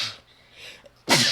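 During a tabletop role-playing session, a player's voice imitates kobolds sneezing: soft breathy hisses, then one sharp, loud sneeze burst close to the microphone at the end.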